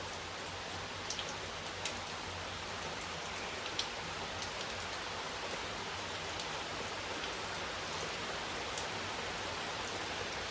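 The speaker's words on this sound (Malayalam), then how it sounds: "ഭയങ്കര മഴയാണ് കേൾക്കാൻ പറ്റുമെന്ന് എനിക്ക് അറിയില്ല" Heavy rain pours steadily with a dense, even hiss and scattered louder drops; no voices.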